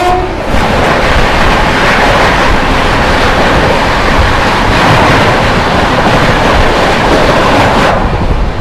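The New Delhi–Ranchi Garib Rath Express roars past close by, a loud, continuous rumble and rattle of carriages filling nearly the whole stretch before easing at the end.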